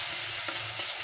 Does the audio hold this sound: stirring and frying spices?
yes